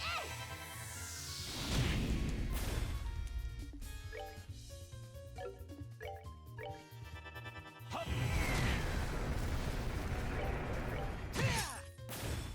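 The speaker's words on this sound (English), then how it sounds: "the explosion just looks bigger than it actually is" Video game explosions from Trails in the Sky Second Chapter, loud crashing bursts mixed with dense layered game music and effects, with two big blasts at the start and again in the second half.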